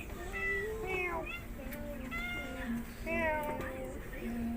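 Kittens meow repeatedly in a wet outdoor setting in the Philippines, several short rising-and-falling cries overlapping one another at close range, with a steady low hum running underneath.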